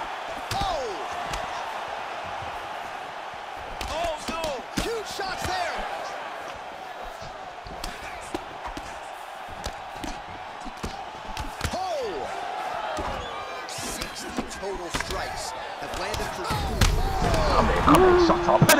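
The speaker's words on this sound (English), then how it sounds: "you just hear the, the punches and everything landing" Punches thud and smack in EA Sports UFC 4, landing as scattered sharp hits throughout a fight while players talk and react over the blows.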